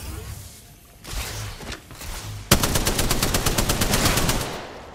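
Automatic gunfire in an Apex Legends-style shooter game as a cargo bot is shot down: a few scattered shots early, then a loud, rapid, evenly spaced burst of rounds sustained over the last half.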